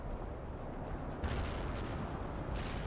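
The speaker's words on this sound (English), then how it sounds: "Heavy artillery." Heavy artillery fire in the video game World in Conflict: a dense, continuous rumbling barrage with booming impacts swelling louder partway through, heard alone with no talk.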